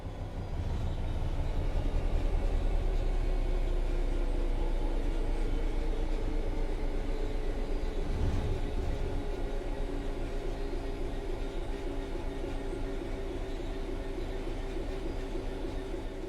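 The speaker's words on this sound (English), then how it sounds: "The train will then coast on level ground, and the train will only slow down very gradually." In Train Sim World 3, a steady low rumble and droning hum of a train coasting on level rails, continuous and unchanging, with a faint thump partway through.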